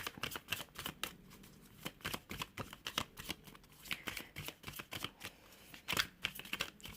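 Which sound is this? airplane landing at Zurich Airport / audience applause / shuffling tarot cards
shuffling tarot cards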